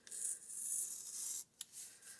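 A knife blade scrapes and slices through paper from a grocery bag in a close, rasping stroke, followed by a short pause and a couple of quick final cuts.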